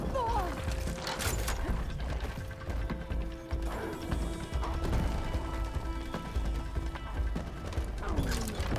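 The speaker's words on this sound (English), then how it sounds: "I have to reload again." Reloading the bolt blaster in Horizon Forbidden West: a run of clicking, ratcheting mechanical clacks and metallic knocks, repeated and close, mixed with game effects and tones.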